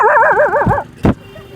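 A person's voice imitates a dog, first with a wavering, whining howl lasting almost a second, then a single short, sharp bark, loud and close.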